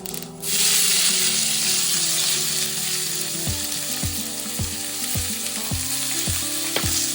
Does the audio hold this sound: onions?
yes